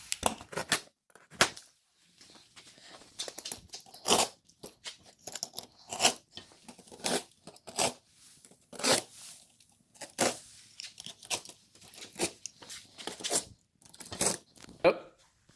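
A rusty, dull blade slices through packing tape on a cardboard box in repeated short rasping cuts and tearing strokes, close and irregular, with some speech between the cuts.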